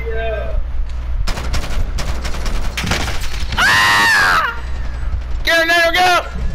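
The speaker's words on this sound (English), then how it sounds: "I'm getting shot at!" Rapid bursts of automatic gunfire and sharp shots crackle in a Call of Duty: Modern Warfare match, mixed with loud game sound effects, while players shout excitedly over the top.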